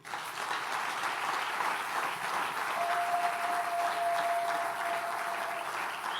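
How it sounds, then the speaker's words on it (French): A church congregation claps and cheers for the Lord during a French-language sermon, a dense, steady wash of applause from a full room that holds at even strength for several seconds, with a faint sustained tone running beneath it. "Est-ce qu'on peut acclamer le Seigneur?"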